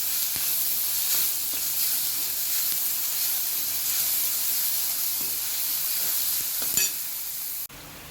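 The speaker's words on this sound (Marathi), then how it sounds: "यामध्ये आता आपण लसूण आणि हिरव्या मिरचीचं वाटण घालून घेऊया। आपण हे छान परतून घेऊया" Onions fry with garlic and green chili paste, a loud, dense hiss and sizzle with faint scraping stirs, ending in a sharp clink before the sound drops abruptly.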